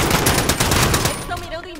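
Loud, dense automatic gunfire from Call of Duty: Modern Warfare hammers away in continuous rapid bursts, easing slightly toward the end as faint voices come through.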